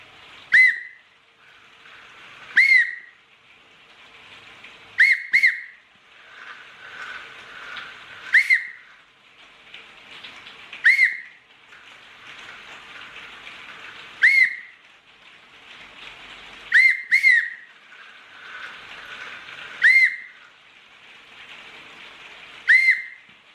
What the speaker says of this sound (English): you need to whistle to control him